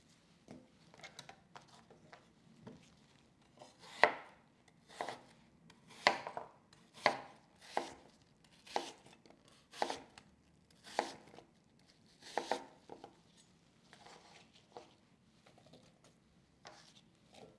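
A knife slicing apples on a cutting board in a home kitchen, a series of crisp, evenly spaced chops at close range, starting soft, building to firm strokes, then tapering off; no talk.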